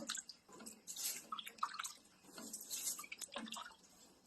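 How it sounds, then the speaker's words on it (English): Water splashing and dripping as excess water is poured out of a large metal pressure canner on a back porch, irregular splashes and trickles, close up. "Looks like I got a little bit too much water, so I'm going to dump some of it out."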